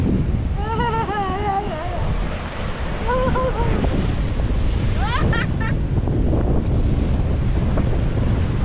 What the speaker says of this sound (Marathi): हवा एवढी आहे ना की आम्हाला पाठी ढकलत एवढं